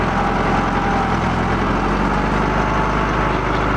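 A motocross bike engine runs steadily at close range at a motocross track near York, UK, holding a raised, even rev with a constant low throb and no voices.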